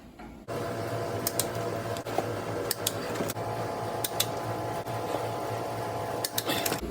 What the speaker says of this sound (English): Okay, now we torque them.